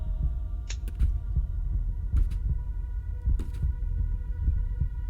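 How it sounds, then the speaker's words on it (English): A faint heartbeat sound effect pulses low and steady under a constant hum, the soft thuds repeating in an even rhythm with a few brief high ticks scattered across it. "you start hearing a faint, second heartbeat"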